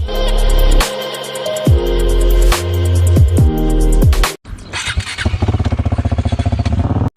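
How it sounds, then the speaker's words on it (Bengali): A motorcycle on a street in France, its engine loud and close with rising and falling revs through several gear changes, then an abrupt cut to a steadier, rapidly pulsing engine note. "ফ্রান্সের একটি রাস্তায় বাইক ড্রাইভ করছিলেন এই বাইকার"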